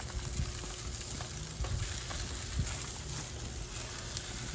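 Cauliflower florets wrapped in foil sizzle on a grill, a steady soft crackle with light pops against a low outdoor rumble.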